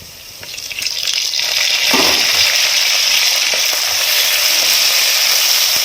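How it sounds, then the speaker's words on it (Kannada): Curry leaves drop into hot oil for a fish-head seafood sambar, bursting into a loud, steady sizzle with crackling spatter that swells after the first second and holds strong to the end. "ನೋಡಿ, ಇದಕ್ಕೆ ನಾನು ಕರ್ಬೇವಿನ ಸೊಪ್ಪು ಹಾಕೊತಾ ಇದ್ದೀನಿ"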